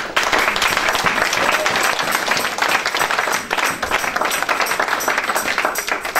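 A church congregation applauds the Lord during a French-language worship service, dense continuous clapping from a crowd, loud and close, sustained throughout with a few voices mixed in.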